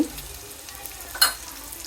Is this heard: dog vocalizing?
no